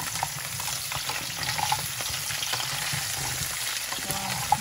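Food fries in hot oil in a worn pan that was once non-stick, giving a soft, steady sizzle with faint stirring and light clinks, fairly quiet throughout.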